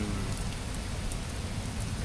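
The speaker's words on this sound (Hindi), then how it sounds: "और अभी तो बारिश बहुत तेज़ शुरू हो गई, बहुत तेज़।" Heavy rain pouring steadily near Izmis Lake in the Utror Valley of Swat, a dense, constant hiss of drops hitting surfaces with no pauses.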